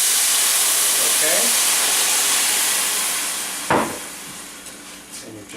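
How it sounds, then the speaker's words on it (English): A pan deglazed with about a cup of white wine gives a loud, steady hissing sizzle throughout, fading slightly toward the end, with a brief voice heard near the close. "Now you're going to deglaze your pan with about a cup of white wine."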